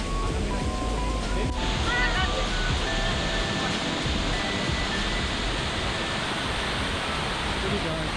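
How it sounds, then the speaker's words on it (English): Cumberland Falls waterfall pours in a dense, steady broadband roar that fills the scene continuously, loud and unbroken, with faint wind buffeting the microphone. "Niagara Falls of the South"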